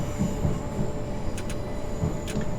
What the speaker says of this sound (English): We are in an electric multiple unit, so the throttle is extremely responsive and the train will get up